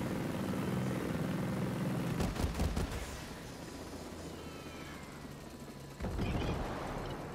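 A helicopter in the video game Ghost Recon Breakpoint, its rotor chop and engine drone steady and fairly loud, broken by a burst of rapid gunfire mid-way and a heavier thump near the end.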